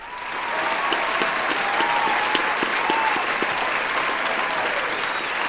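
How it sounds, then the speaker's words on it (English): A large crowd claps steadily and loudly for several seconds, a dense continuous wash of applause with no voices standing out. "you deserve to give yourselves a round of applause"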